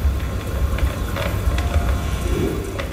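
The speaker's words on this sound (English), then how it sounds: "The first piece kind of sounds like microphone feedback," Sound art piece rendering the sky as audio: a steady, dense wash of noisy hiss with a low rumble and faint sustained tones, resembling microphone feedback, continuous and unbroken throughout.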